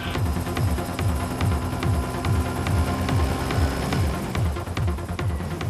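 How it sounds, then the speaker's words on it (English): A helicopter's rotor thumps steadily in a fast, even rhythm, loud and continuous as it flies close overhead. "the sound of the helicopter is enough to alert the older of the two"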